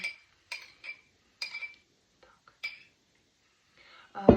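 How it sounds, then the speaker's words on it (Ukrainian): A utensil stirs hot sandwich filling with a pepper mix in a bowl, producing several sharp, separate clinks and scrapes at irregular intervals, close and fairly quiet, with a brief voice at the end. "Перемішуємо нашу красиву начинку для наших гарячих бутербродиків."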